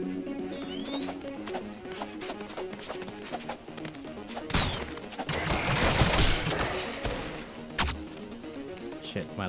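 Gunfire in the 2D shooter ROUNDS, a busy run of rapid shots and impacts over game music and effects. It swells into a denser burst of hits near the middle, then eases off.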